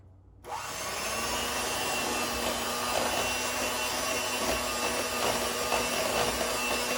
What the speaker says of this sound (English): this is when we start to use our handheld mixer